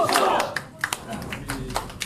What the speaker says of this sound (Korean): 박수 드리시기 바랍니다